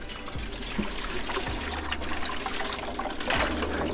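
Water trickles and pours steadily into a foot-powered off-grid system aboard a liveaboard narrowboat, a faint continuous splashing with a few soft knocks.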